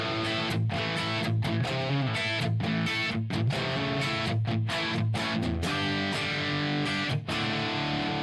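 Electric guitar strummed hard with heavy distortion in a rock style, loud chords with rhythmic breaks and stops, played alone with no talking.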